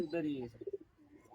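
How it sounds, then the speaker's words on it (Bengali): A male Kaldam Giribaz pigeon sitting on a rooftop gives a short, soft burst of pulsing coos right after a brief voice, fairly faint and close. "এখন খোপ থেকে বেরিয়ে গেছে ছাদের উপরে বসে আছে এই কালদম"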